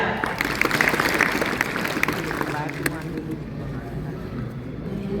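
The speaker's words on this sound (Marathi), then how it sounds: "जोरदार टाळ्या." An audience gives a loud round of applause, steady and dense at first before easing off, with speech mixed in.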